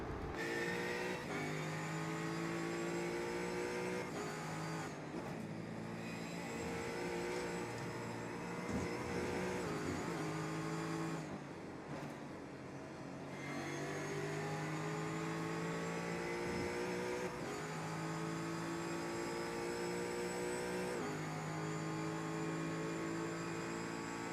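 Onboard engine note of a number 11 Ford Mustang GT4 race car in iRacing at Watkins Glen, a loud continuous whine rising and falling through gear changes with brief lifts, sustained throughout with no talk.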